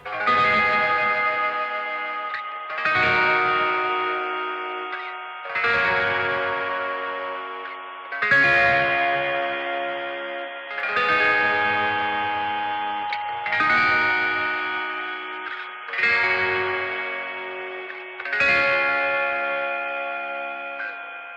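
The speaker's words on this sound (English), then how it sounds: "It's like a sort of a lo-fi sort of reverb sound" A lo-fi reverb effect from a BOSS RV-500 reverb pedal, eight evenly spaced, bright tonal hits, each blooming and then decaying into a washy tail before the next one sounds.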